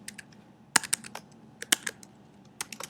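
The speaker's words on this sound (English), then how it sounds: "So for me, I can just type anything." Someone types on a computer keyboard, making irregular clusters of crisp, close key clicks with small pauses between bursts, fairly quiet and with no speech.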